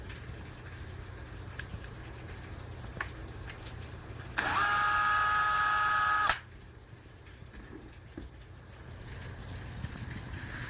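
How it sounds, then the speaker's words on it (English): Power drill boring a shallow hole into a thin MDF board, one steady high whirring burst of about two seconds, close and loud against a quiet room hum. "When drilling your hole, don't go all the way through the MDF."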